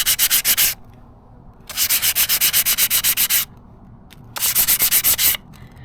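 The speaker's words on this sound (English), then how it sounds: "Take your brake pad and shave it." A brake pad from a Gio Titan is rubbed back and forth on extra-fine 600-grit sandpaper wrapped around a small wooden block, three loud, close bursts of quick rhythmic scraping strokes separated by short pauses.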